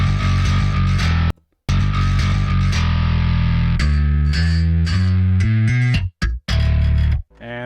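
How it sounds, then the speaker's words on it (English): Distorted electric bass played in a heavy, grooving riff with slides and hammer-ons, loud and continuous with brief abrupt gaps between phrases. "So we got that nice little slidey hammer-on kind of thing going on there."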